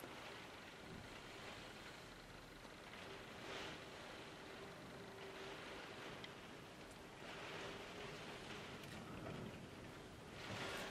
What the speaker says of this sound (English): if anybody's out in this rain, can you hear it on my loft window?